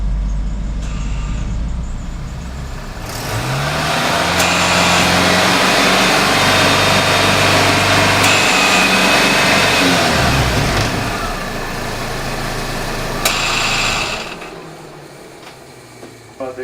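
A Ford Ranger engine idles and revs while warming up after an electric fan install, a steady close running note that swells louder through the middle with rising and falling rev sweeps before settling back.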